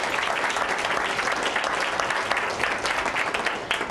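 An audience applauds steadily to welcome Bill Shernoff to the stage, with dense, continuous clapping from a moderately sized crowd and no voices over it.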